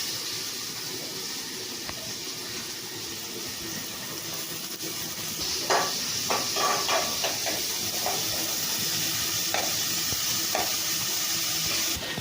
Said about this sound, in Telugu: ఫస్ట్ దీన్ని బ్రౌన్ కలర్ వచ్చే వరకు మంచిగా వేపేసుకోవాలి ఆనియన్స్